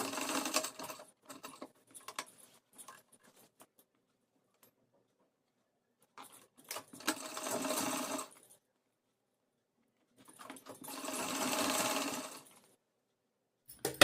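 Sewing machine stitching the folded border of an Anarkali dress, running in three separate bursts of rapid mechanical whirring with quiet pauses between, close and fairly loud.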